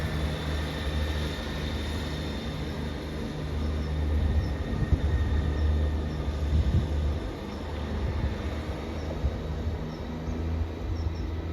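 A Class 158 diesel multiple unit pulls out of a station toward Bristol Temple Meads, its engine droning low and steady with a faint high whine as it moves off, heard close and without voices.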